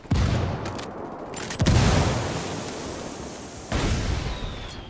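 Gunfire exchange in Ghost Recon Wildlands, a tactical shooter: loud rattling bursts and sharp reports, with a heavy blast near 1.6 s and another surge near 3.7 s, over a continuous roar of combat.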